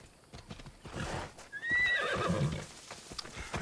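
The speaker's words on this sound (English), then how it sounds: "Okay, I need my horse." A horse whinnies with a rising, wavering neigh over the clatter of hooves in Assassin's Creed Odyssey, the call loud and close and the hoofbeats running steadily beneath it.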